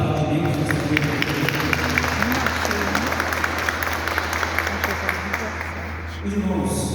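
Church congregation applauding during an evening service, a steady crowd of clapping hands with a sustained low hum and voices mixed underneath.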